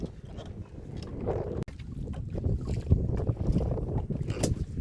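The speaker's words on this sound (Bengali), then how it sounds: "প্রচণ্ড হাওয়া হয়, এত হাওয়ার ভিতরে কিন্তু মাছ ধরতে খুব অসুবিধা হয়।" Strong wind gusting over a river while fishing from a boat buffets the microphone with a constant low roar, with faint splashes and knocks of the boat.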